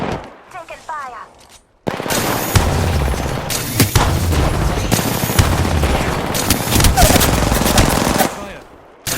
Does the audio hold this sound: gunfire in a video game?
yes